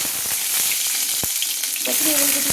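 Kohlrabi, boiled and then frying in a little hot oil in a wok, gives a steady close sizzle, broken by a few short stirring scrapes.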